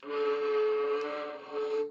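A sustained, airy, breathy viola note played with too little finger pressure, thin and slightly unsteady, heard alone for about two seconds.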